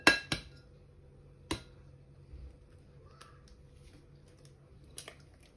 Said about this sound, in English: we're going to take 2 eggs and I'm gonna crack it